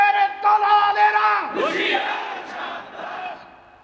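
A large crowd at a religious sermon gathering roars a chanted response to a takbir call, a loud massed unison shout that swells and then trails off into scattered voices.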